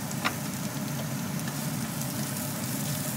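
Onion frying in a tablespoon of hot oil in a hot pan over medium heat, a steady soft crackling sizzle running throughout at moderate level, with no voices.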